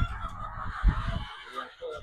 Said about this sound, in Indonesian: Ini kandang unggasnya. Ini yang petelur kampung.